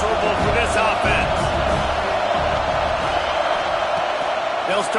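Dense, steady roar of a packed stadium crowd at an Oklahoma vs USC college football game, a broad continuous wash of noise with a commentator talking over it.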